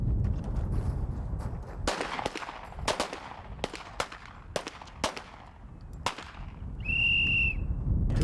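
Gunfire at an outdoor shooting range in Alaska, heard as a rapid series of sharp, fairly distant cracks under gusty wind noise, followed by a short whistle blast.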